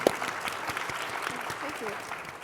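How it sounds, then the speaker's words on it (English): Steady, moderate applause from the audience at a talk on media in animal advocacy, fairly soft and sustained over the short stretch, with a faint voice beneath. "Round of applause."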